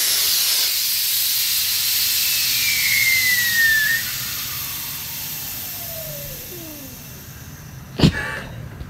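CO2 cartridge discharging through a Crank Brothers Click floor pump, a loud continuous hiss that gradually fades with falling whistling tones, ending in a sharp click near the finish.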